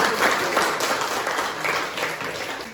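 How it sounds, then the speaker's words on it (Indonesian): Classroom of young students applauding together at a teacher's prompt, a dense, close burst of clapping that holds steady and slowly tapers off over a few seconds. "Oke, beri aplaus dulu."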